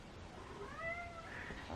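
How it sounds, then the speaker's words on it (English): A house cat gives a single soft, drawn-out meow with a rising and falling pitch, quiet and close by in a calm indoor studio, with faint background hiss and no talking. "my cat right here."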